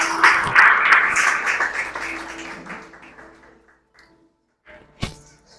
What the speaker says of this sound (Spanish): Dale un aplauso al Señor y toma asiento allí en tu lugar.